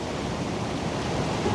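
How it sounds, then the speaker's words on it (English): Steady, full-bodied rush of falling and running water, constant and fairly loud with no breaks, from a waterfall feeding a creek close by in Colorado's Lead King Basin. "the waterfall behind me, waterfall below me, this beautiful creek running through"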